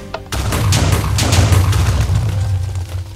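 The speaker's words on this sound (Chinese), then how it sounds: "为啥一直有爆炸声？" Repeated explosions in the game Minecraft rumble heavily and continuously at close range, a dense booming roll that carries on without a break.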